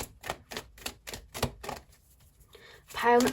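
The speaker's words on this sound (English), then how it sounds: "So let's shuffle some more cards." Tarot cards are shuffled in a quick run of crisp, evenly spaced riffling snaps, close and clear, followed by a brief pause and a soft voice.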